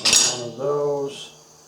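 Metal wrenches from a Bridgewood wood shaper accessory kit clink and rattle as they are handled, a bright clatter followed by a softer ringing jingle and a final light clink, close by with no talking.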